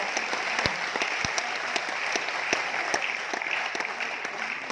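Enthusiastic applause from a sizable crowd, dense clapping with a few sharper claps standing out, steady throughout.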